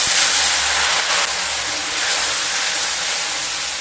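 Water poured into a hot pan of spiced potato and potol curry with turmeric and chili powders sets off a loud, steady, close sizzling hiss that holds for several seconds.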